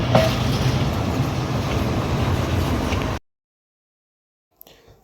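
Padma Express intercity train rumbling past without stopping, a loud, dense rush of wheels and wagons that stops abruptly, followed by near silence and faint rustling.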